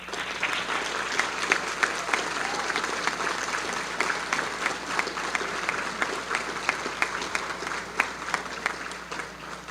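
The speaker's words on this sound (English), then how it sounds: "please join me in a big round of applause for the North Central Division" Sustained applause from a banquet audience at an NHRA North Central Division awards dinner, many hands clapping steadily and evenly for about ten seconds with a faint murmur beneath.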